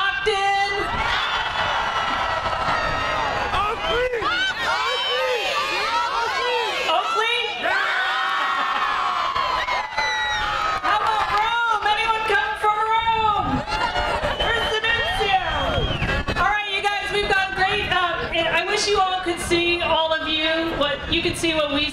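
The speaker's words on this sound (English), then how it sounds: "This is by far the largest crowd." A large crowd at a rally cheers and whoops continuously, with many overlapping voices shouting and chattering loudly throughout.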